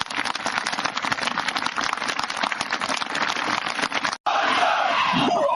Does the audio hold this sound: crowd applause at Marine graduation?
yes